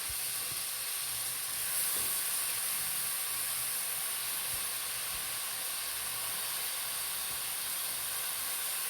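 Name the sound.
leafy greens added to sizzling spice masala in pan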